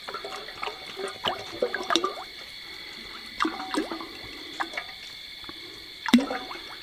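Cooking oil, almost three gallons of it, pours into a turkey fryer, making a close, wet glugging and splashing with uneven surges and a few sharper bursts at the start, middle and end.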